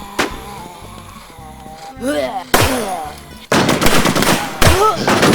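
Gunfire in the online shooter Infestation Thailand comes as loud bursts of automatic fire and single shots in several clusters, over music and game noise.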